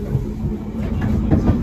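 London Underground train on the Hainault loop, running between stations, heard from inside as a loud steady rumble with low drone and occasional rattling clatter, no talk.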